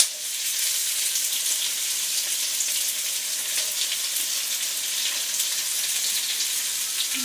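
Chopped tomatoes and onions sizzle in a pan over medium-high heat, a steady, close hiss of frying that holds evenly throughout with no talking.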